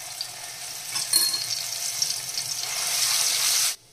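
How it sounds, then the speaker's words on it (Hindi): Crushed garlic hits hot oil with cumin and asafoetida over a low flame, and a close, steady sizzle builds and then cuts off abruptly near the end. "इसमें डालेंगे कुटा हुआ लहसुन"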